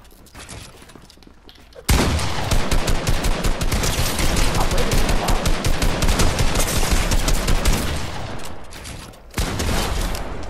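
Rapid automatic gunfire from Fortnite gameplay bursts in loudly after a quiet start and rattles on continuously, pausing briefly near the end before resuming.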